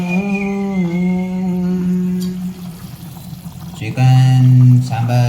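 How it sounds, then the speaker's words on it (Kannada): Water is poured into a pot of chicken sambar on the stove, a steady pouring stream running under voices that talk throughout. "ಈಗ ಇದಕ್ಕೆ ನೀರು ಮಿಕ್ಸ್ ಮಾಡ್ತಾ ಇದ್ದೀವಿ"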